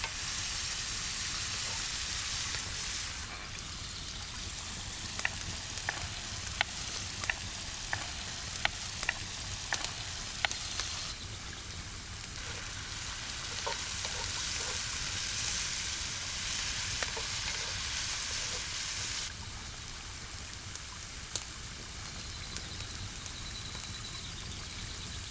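Diced onions and garlic frying in a hot pan, a continuous loud sizzle broken by scattered clicks and scrapes of stirring, steady throughout with no voices.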